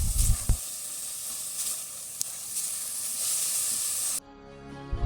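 Tomato paste hitting onions frying in oil for a Bengali prawn malai curry with coconut milk, giving a steady, fairly loud sizzling hiss that cuts off sharply near the end.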